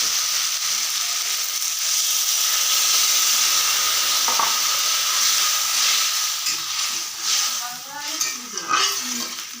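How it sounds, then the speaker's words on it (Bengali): Water is poured into a sizzling spiced fish curry with ginger, garlic, chillies and turmeric, a loud steady hissing rush of steam that gives way to bubbling and spattering near the end. "এবারে আমি জল ঢেলে দেবো।"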